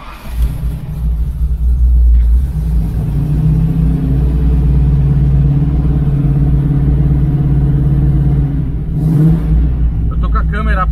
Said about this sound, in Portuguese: Vamos ver se eu consigo mostrar dentro do carro essa vibração.